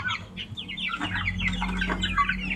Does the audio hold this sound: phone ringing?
no